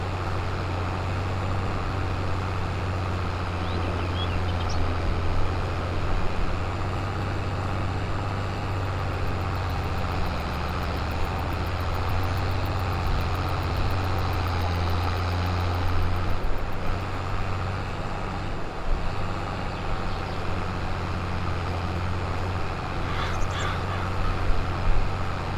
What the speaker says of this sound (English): Surprised by how good this tractor goes. It's only a little fella, but it's got a bit of go.